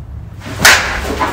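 A single swing of a Monsta Torch Light balanced 22 oz softball bat cuts the air in one sharp, close whoosh over faint background noise.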